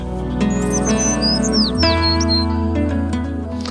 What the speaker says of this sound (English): bringing happy chirping sparrows back in the neighborhood